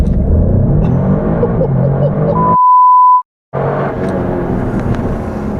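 Alfa Romeo Stelvio Quadrifoglio SUV engine pulling hard from low revs, a loud, dense roar that cuts out abruptly partway through, leaving a steady electronic beep tone, then surges back in at full strength.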